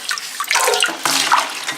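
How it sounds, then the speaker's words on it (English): Water squeezed and sloshing out of a big sponge pressed down inside a 1950s toilet tank, with several close wet splashy gushes in uneven bursts, heard alone. "And if you just mash a sponge down in there, you"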